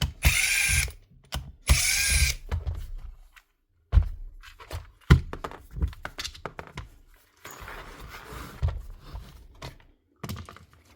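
Screws are being backed out of a Makita drill housing during a warranty repair, giving bursts of loud close ratcheting clicks from a driver, separated by pauses, shuffling and small handling knocks.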